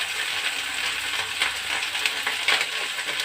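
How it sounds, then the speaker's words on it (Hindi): Okra (bhindi) fries in a pan, giving a steady close sizzle with light stirring scrapes and no talk. "मैं भिंडी भून के मेरी रेडी हो जाती है"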